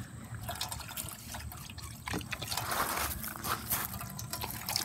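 Clean water splashes and trickles into a dog bowl, a bubbly pouring sound close by that grows fuller toward the end.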